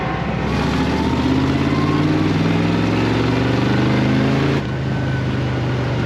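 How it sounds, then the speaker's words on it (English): A 1956 Willys Jeep engine revs up and holds high under throttle, its pitch climbing steadily before dropping back to a rough idle near the end, loud and close with no voices. "There, let's hear that throttle."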